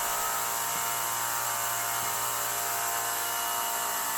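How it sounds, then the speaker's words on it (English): A slack belt grinder shapes the inside curve of a drop point hunter knife blade, producing a loud, steady, high-pitched abrasive whine that runs unbroken and close throughout. "we're up in the slack belt portion of the grinder right now"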